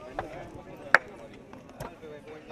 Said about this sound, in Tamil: கத்தரிக்காய் வெட்டல் நடக்குது